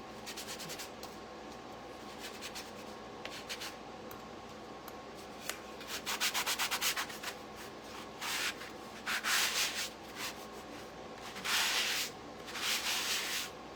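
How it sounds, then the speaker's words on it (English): Light, brisk strokes of sandpaper rub across a surface in short bursts, close and fairly quiet, over a faint steady background hum. "I just am lightly sanding it. Like not even heavy, just very, just smoothing the rough finish."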